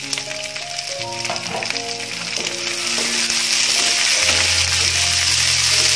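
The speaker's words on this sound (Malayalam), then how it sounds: "ഇതൊന്ന് ഇതിൽ എണ്ണയിലിട്ടിട്ടൊന്ന് വഴറ്റിയെടുക്കാം" About 300 grams of garlic sautéing in hot oil for a Malayalam-style garlic pickle: a steady, bright sizzle and crackle that grows louder and denser partway through, with faint stirring and no talk.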